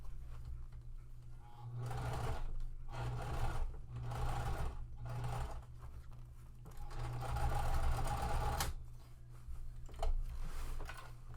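A sewing machine top-stitches a shoulder bag, running in short whirring bursts of a second or two separated by brief pauses, with a close, steady mechanical hum.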